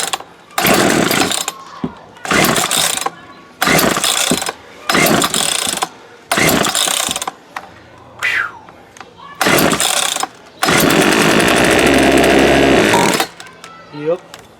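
A Poulan Wood Shark chainsaw with a replaced primer, starving for fuel, revs in repeated short rasping bursts with brief drops between, then holds one longer roaring run before cutting out; people talk briefly between bursts.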